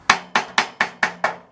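A hammer, ball peen style, strikes a metal backstop being fabricated for a chop saw six times in an even rhythm, each blow a sharp, ringing clang close to the microphone with no talking.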